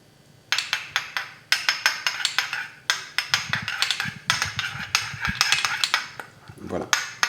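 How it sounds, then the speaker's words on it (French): A spoon mixing spicy banh mi sauce in a bowl, a steady run of close, sharp clinks and scrapes against the bowl at a quick, irregular rhythm with brief pauses. "Vous mélangez le tout."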